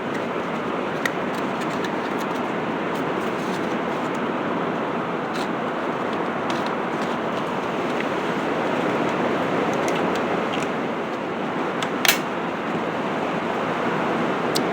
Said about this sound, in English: I don't know if you can hear the rain on the camera,